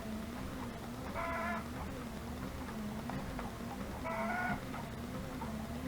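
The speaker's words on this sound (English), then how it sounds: "Can you hear my hen out there?" A hen clucks outdoors in short bursts, twice, faint and somewhat distant over steady background noise.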